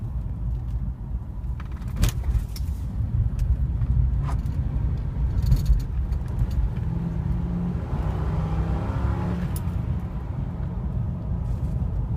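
A Mercury Grand Marquis engine hums steadily from inside the car while driving, with a low rumble that swells slightly as it picks up speed, accompanied by road noise.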